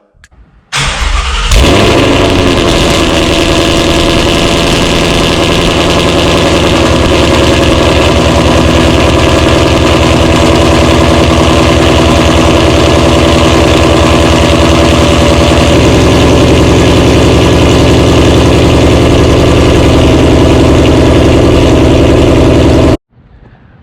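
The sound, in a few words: Ford Mustang GT engine cold start and idling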